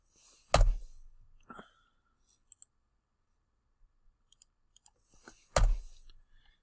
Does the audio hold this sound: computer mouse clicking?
yes